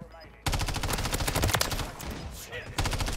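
Rapid automatic gunfire from a showcased weapon blueprint in a shooter game rattles loudly in sustained bursts after a quiet start, with a short pause and a final burst, while a voice talks faintly beneath.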